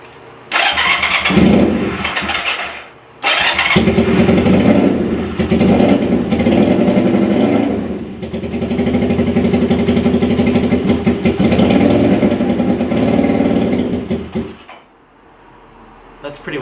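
Honda CL175 motorcycle engine with a freshly worked carburetor cranks, stalls briefly, then restarts and runs loud and steady, rough on one cylinder, before cutting off near the end.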